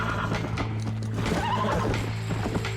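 A horse in the video game Red Dead Redemption whinnies loudly and close, its neigh rising and wavering, with hoofbeats clopping underneath against a constant background hum.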